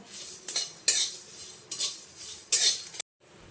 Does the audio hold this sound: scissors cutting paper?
no